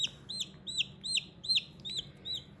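A newly hatched Kadaknath (karunkozhi) chick just out of its egg in an incubator peeps loudly and steadily, giving about eight shrill, evenly spaced cheeps in quick succession over a faint background hum.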